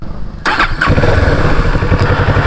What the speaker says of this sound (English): Now we will check the exhaust note.